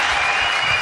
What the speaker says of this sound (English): Rapturous applause, Luke.